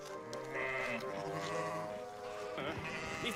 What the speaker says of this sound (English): It's a sheep stampede.